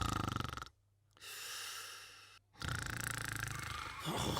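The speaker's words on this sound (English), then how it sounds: "The wolf's loud snoring echoed throughout the forest." A wolf in an animated Little Red Riding Hood fairy tale snores loudly, with long rasping breaths broken by short silent pauses, close and filling the scene.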